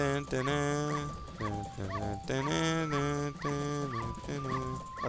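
A dog in the Majora's Mask video game, set in Clock Town, yips and whimpers in a rapid, continuous string of high, whiny cries that rise and fall repeatedly and loudly.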